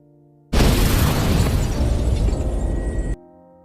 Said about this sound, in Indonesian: ada sebuah bom meledak